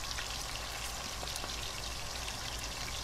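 Kofta meatballs fry in a pan with a steady, dense sizzle and crackle, close and continuous throughout and heard alone with no talking.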